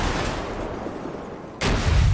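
Gunfire in GTA 5, a booming shot fading through a long decay and then a second loud blast at the end, close and heavy.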